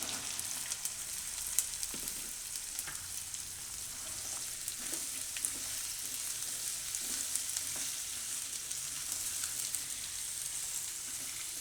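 Potatoes fry with green chillies in a pan for a sprouted fenugreek and potato dish, a quiet, even hiss of sizzling oil with a few faint stirring taps, no speech.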